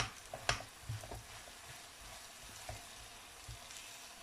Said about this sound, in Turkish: Salçayla pirincimi bir süre daha kavurduktan sonra